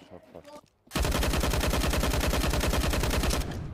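Rapid automatic gunfire in the shooter game CS2, a dense, loud, continuous burst of evenly spaced shots lasting over two seconds after a brief quieter stretch with faint speech.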